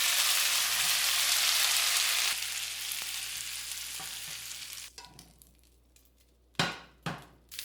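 Beef stir-frying in a pan with olive oil, a loud continuous sizzle that fades to quieter crackling, followed by a few sharp scraping stirs and clatters of the utensil against the pan.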